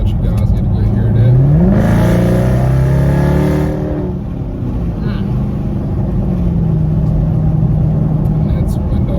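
A 2017 Dodge Charger Daytona with a Dynomax Race Bullets exhaust accelerates hard, its engine note climbing in a loud rising sweep, then settling into steady cruising drone, heard from inside the car.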